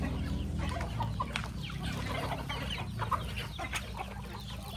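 Native chickens on a farm cluck and chatter continuously at close range, many birds overlapping in a busy, steady flock murmur.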